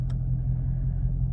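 A Ford Mustang engine rumbles steadily while driving on a chilly day, a low, even drone heard from inside the cabin with no sharp revs.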